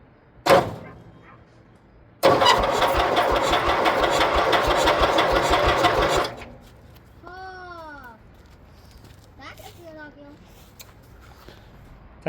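A Zetor 6901 tractor engine, left twenty years in a barn, cranks over on its starter in one sustained, loud, rhythmic churning burst of about four seconds after a brief earlier click, followed by quieter rattles and squeaky sounds.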